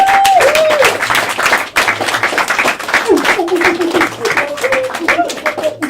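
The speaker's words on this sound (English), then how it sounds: "Please give a round of applause for Tafari." Crowd clapping for the performer Tafari at a Black History Month 2018 spoken-word show, dense and steady throughout, with a voice and tonal sounds running over the applause.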